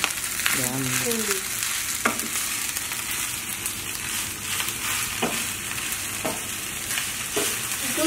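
Kimchi fried rice with egg is stirred in a hot pan, a steady frying sizzle running throughout with scattered scraping clicks of a utensil and a brief voice-like tone near the start.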